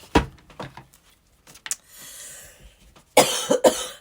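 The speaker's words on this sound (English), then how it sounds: "The minute I try to do something, I start coughing." Several sharp coughs, a couple close together at the start, then a pause with soft shuffling, and two or three more harsh coughs at the end.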